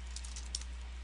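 Quick keyboard typing on a computer, a short burst of several soft clicking keystrokes close by over a low steady hum.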